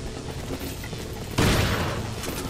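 A single loud shotgun blast in the Resident Evil 4 island area, a sudden booming shot over quiet game ambience, its roar decaying slowly.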